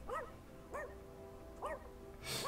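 A dog in the video game Rainswept gives a few short, soft barks and yips spaced about a second apart over a low background hum, with no voices.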